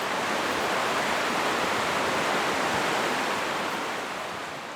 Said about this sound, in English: the highway noise fades into the sound of Short Sand Creek rushing toward the ocean.